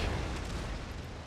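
Cannon fire in the Total Fots Carlist War strategy game, a dense continuous boom and rumble of artillery with no clear separate shots, loud throughout the short stretch.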